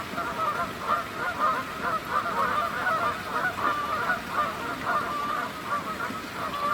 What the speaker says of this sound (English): I wonder what's with all the goose chatter.